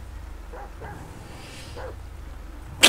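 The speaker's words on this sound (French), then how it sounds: "Il y a un chien qui est là aussi." Dog in the GTA 5 video game giving a few short yips and whimpers, faint and spaced out over a low background hum, followed by a brief sharp noise at the end.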